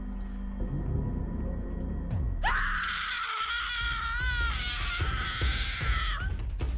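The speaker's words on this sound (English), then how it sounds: "Woman's scream sounded interesting. Stock footage scream." Stock recording of a woman's long, anguished scream from a horror video game, starting abruptly after a low rumbling ambience and wavering loudly for several seconds before cutting off.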